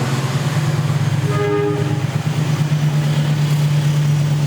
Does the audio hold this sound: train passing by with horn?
yes